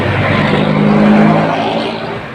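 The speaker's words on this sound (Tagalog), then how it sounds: "ang ingay ng mga sasakyan dito" Roadside traffic noise as vehicles pass close by, a loud, steady engine roar with a humming tone that swells and then fades slightly.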